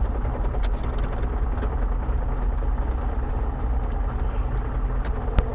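A sawmill vehicle's engine runs steadily and loudly, a constant mid-pitched drone with no pauses and one brief sharp knock near the end, as it is shifted into a higher gear. No voices are heard.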